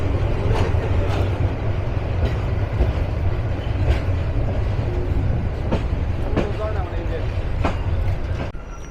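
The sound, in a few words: Tista Express train entering Dewanganj Bazar station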